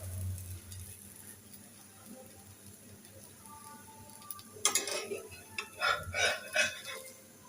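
Food frying in a pan of spattering oil in a home kitchen, a faint steady sizzle that turns into louder crackling, popping bursts toward the end.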